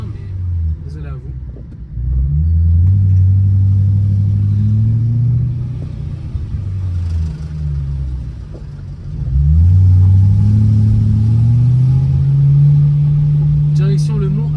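BMW M3 E92 engine resonating loudly while driving, a deep droning rumble that surges twice as the car accelerates, steady and close throughout.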